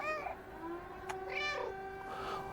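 In the video game Stray, a cat gives a run of three drawn-out meows, close and clear over a faint steady background hum.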